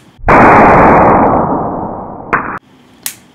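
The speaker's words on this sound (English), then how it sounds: "I think that's enough explosions for the day" An AA battery bursting while held by a capacitor: one loud, sharp blast that decays into a long hissing roar of about two seconds, a brief crackle near the end, then a small pop.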